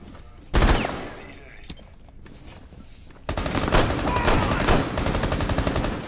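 Gunfire in Rainbow Six Siege: a sharp close shot, a quieter stretch, then a sustained rattling automatic burst lasting several seconds, loud and near.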